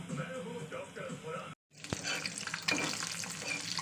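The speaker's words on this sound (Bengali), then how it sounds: "তো চলুন ডিমটা ভাজা করে নিই।" An egg is dropped into hot oil in a home kitchen pan and sizzles. After a brief quiet break, a loud, close crackling hiss rises and continues.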